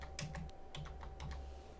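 Short burst of typing on a computer keyboard while entering a domain name, a handful of soft, irregular keystrokes heard close over a low steady background hum.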